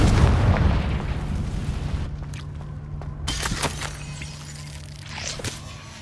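A Confringo fire spell explodes in Hogwarts Legacy with a loud, booming blast and a rumbling low tail, followed by a few sharp crackling bursts and fading debris.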